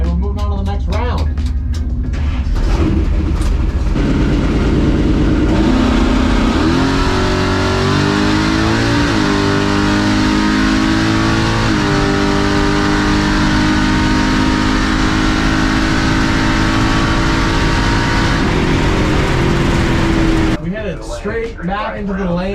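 A 700-horsepower Chevrolet C10 street truck makes a drag racing pass, its engine roaring loud and close through rising shifts, sustained at full throttle for many seconds before easing off, with a voice speaking near the start and end.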